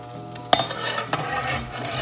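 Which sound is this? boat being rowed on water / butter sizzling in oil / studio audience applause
butter sizzling in oil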